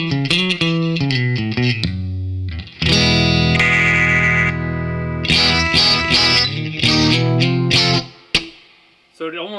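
Electric guitar through a VFE Blues King DIY overdrive pedal, played in strummed chords and single notes with edge-of-breakup grit, loud and upfront, ending in a short decay.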